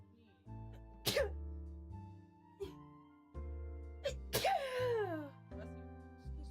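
Two sharp, loud sneezes burst out a few seconds apart, each a sudden explosive blast with a voiced edge, set over steady background music.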